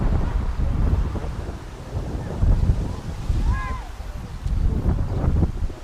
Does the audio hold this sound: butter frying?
no